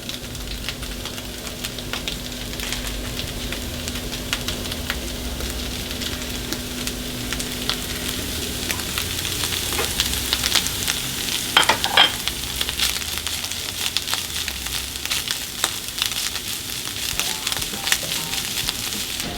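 Minced meat frying in a pan for a Turkish kiymali egg dish, a steady loud sizzle that carries on the whole time with occasional stirring scrapes and no talking.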